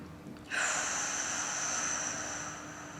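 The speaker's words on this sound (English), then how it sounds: "Take a couple of breaths here, guided towards the back of your lungs." A deep, steady breath during seated chair yoga, starting abruptly as a long airy exhale or inhale that holds for a couple of seconds and then fades slightly, close and fairly quiet, with no talking over it.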